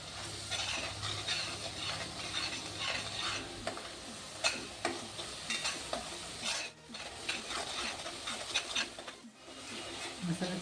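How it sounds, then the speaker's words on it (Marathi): Masala with a pinch of garam masala stirring and roasting in a pan over medium flame for a home-style potato and pea curry, with a steady close sizzle and repeated spoon scrapes and clinks against the pan throughout. "मिडियम आचेवर आपला मसाला आपल्याला भाजून घ्यायचा आहे"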